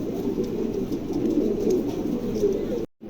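Pigeons at a busy pigeon market coo continuously in a dense, murmuring chorus under steady crowd noise, ending with a brief cut to silence.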